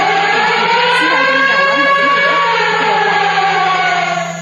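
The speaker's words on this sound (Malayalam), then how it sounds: "ഇവിടെ ഇങ്ങനെ സൈറൺ അടിച്ചുകൊണ്ടിരിക്കുകയാണ്" An air raid siren wails continuously in Israel, loud and steady with a slow rising and falling tone that fills the whole stretch, a voice faintly audible beneath it.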